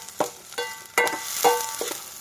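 Sliced onions hit a hot pan and fry, with short bursts of sizzle and stirring scrapes coming in quick irregular pulses, close and fairly quiet.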